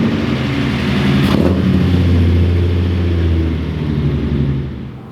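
A Datsun 280Z on new tires drives by and accelerates, its engine rising loud and close in a strong revving surge before easing off toward the end.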